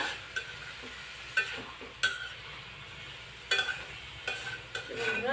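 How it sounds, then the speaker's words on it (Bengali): A spoon stirs garlic leaves, small potatoes and bamboo-leaf dried fish in a pan, giving a few sharp scraping clicks over a faint, steady sizzle, quiet and close. "এখন খুব সুন্দরভাবে নাড়াচাড়া করে নিব পাতাটা"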